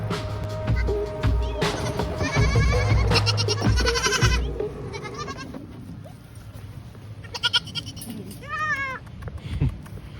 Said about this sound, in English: they've got some Nigerian pygmy goats